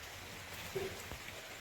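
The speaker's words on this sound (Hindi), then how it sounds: "अभी हल्का हुआ है, लेकिन बादल वैसे का वैसे लगा हुआ है और बारिश हो भी रही है।" Light rain falling after a heavy downpour under a cloudy sky, a faint, steady hiss with a few soft drop taps, distant and continuous.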